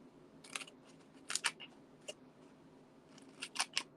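Scissors cut small paper card pieces for a 3D hearts gift card. A few crisp, close snips come in small clusters, separated by short quiet pauses, with no talk.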